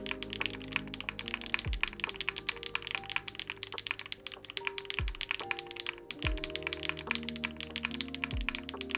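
Continuous fast typing on a mechanical keyboard, close and clear, with dense key clacks and several deeper, sharp spacebar thunks standing out through the run.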